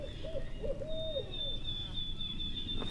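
An owl hoots in a short series of calls at a moderate distance outdoors on a Missouri turkey-hunting opening day, with a thin high tone and a low rumble of wind or movement behind it.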